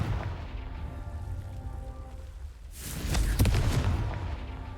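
Confringo fire spell in Hogwarts Legacy: a low rumbling ambience gives way to a sudden whooshing, booming fiery blast with crackling that rolls on and slowly fades, no speech.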